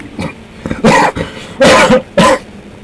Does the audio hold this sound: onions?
no